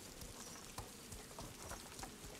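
Steady rain pours down at night in a video game, a dense even hiss of falling drops with scattered soft taps, continuous and fairly close throughout.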